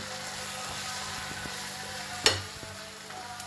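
Chickpea flour (besan) stirred into a hot pan for onion sabzi, with a steady soft sizzle throughout and one sharper scrape of the spoon partway through, no voices.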